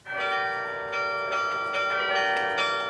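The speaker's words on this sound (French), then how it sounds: "D'un point de vue sonore, c'est le plus beau carillon de la région." The carillon of the Douai belfry rings out in layered, sustained bell tones, with new strikes arriving roughly every half second over a long shimmering resonance, clear and fairly loud.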